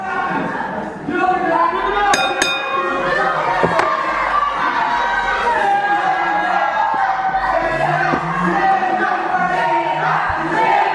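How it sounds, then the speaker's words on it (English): A live wrestling crowd at a UK Friday night showdown roars in sustained cheering and ovation, loud and continuous, with shouts, whistles and a few sharp claps rising over the din. "And listen to this crowd."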